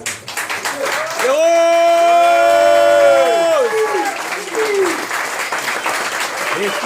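Sustained audience applause fills a live stage show, steady and dense throughout, with a loud drawn-out voice or tonal sweep riding over it in the first half.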